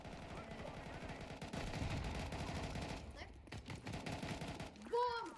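Rapid gunfire bursts in a shooting video game, dense repeated shots up close, with players talking over the action and a short electronic game sound near the end.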